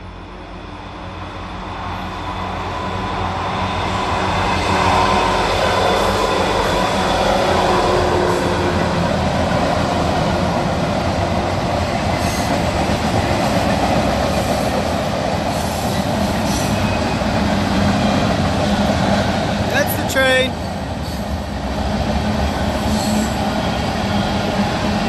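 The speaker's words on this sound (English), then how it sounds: "there's a train coming" A train passes near an outdoor spot where a landscape is being painted in oil. A loud, steady rumble of rolling wagons builds and holds for about twenty seconds, with brief metallic squeals partway through.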